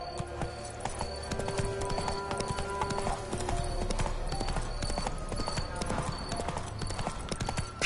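Geralt's horse Roach galloping in a video game, dense, rapid clip-clop hoofbeats sustained and close over steady background sound, with a faint neigh at times.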